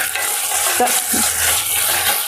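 Ivy gourd (tondekayi) frying in a pan, a dense close sizzle with a soft stirring scrape and a brief metallic clink partway through.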